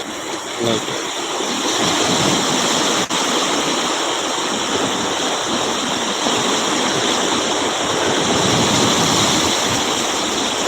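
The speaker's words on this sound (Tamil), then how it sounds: "நல்ல அலைகள் ஆனால் இப்போ கொஞ்சம் கம்மியாக தான் இருக்குது" Sea waves roar and wash continuously onto Kottakkuppam beach, making a loud, dense, unbroken rush of surf with no clear breaks between waves. No voices are heard.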